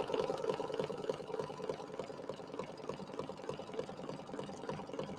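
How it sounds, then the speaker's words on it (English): Sewing machine running a triple stitch to tack vinyl down on a quilting project, a steady fast mechanical whir with rapid repeating needle clatter throughout, moderately loud and close, no talking. "it's going to sew and it's going to do kind of a triple stitch"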